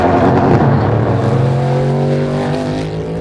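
A Cadillac V-Series race car engine roars steadily at high revs, loud and close, with a smooth sustained tone fading slightly toward the end.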